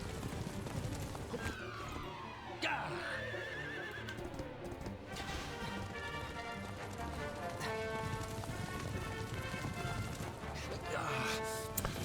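Armored war horses whinny and hooves clatter in a fast gallop in the game Dragon Quest 11, with game music and effects layered throughout and occasional voices in the background.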